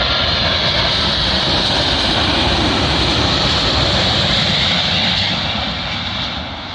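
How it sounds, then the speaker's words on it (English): A Virgin Atlantic Airbus A350-1000 arriving from Lagos lands on runway 27L at London Heathrow, a loud, steady, broad jet roar that carries on throughout and eases slightly at the end. "Arriving in now is our final Airbus A350-1000. This time it's with Virgin Atlantic, working a service from Lagos to London Heathrow Airport."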